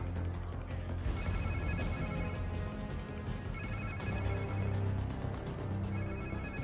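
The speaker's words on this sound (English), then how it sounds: "Sounds like somebody's phone." A phone rings in the Marvel's Spider-Man 2 video game, a repeating electronic ring heard faintly and steadily beneath a constant bed of game music and ambience.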